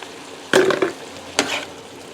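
Chopped green onion hits a hot frying pan with two short bursts of sizzle, the second softer, against a quiet kitchen background.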